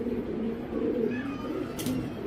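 Racing pigeons coo softly in low, throaty warbles, a few overlapping calls close by against a quiet background.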